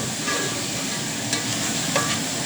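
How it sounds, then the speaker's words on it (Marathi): Dal sautéing in a pan, a dense steady sizzle with two brief spoon clinks against the metal, close and loud with no speech. "ती डाळ थोडा वेळ परतून घ्यायची आहे"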